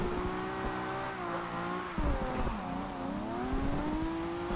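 A Nissan Skyline 2000GTR drifts in the racing game Forza Horizon 2, its engine droning and revving with rising and falling pitch sweeps and a sharp shift near the middle, loud and close with no talk.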